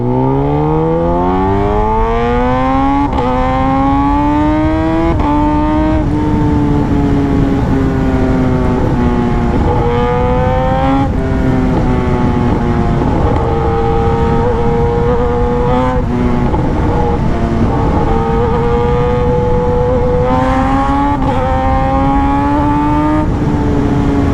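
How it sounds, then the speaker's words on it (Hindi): A Kawasaki Ninja ZX-10R sport motorcycle engine revs and shifts repeatedly, with rising pitch sweeps broken by quick auto-blipper blips on downshifts, loud and close throughout. "सबसे मस्त साउंड लगता है जब डाउन शिफ्ट करते हैं, मतलब ऑटो ब्लीपर"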